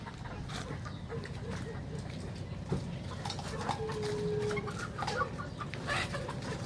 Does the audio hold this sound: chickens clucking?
yes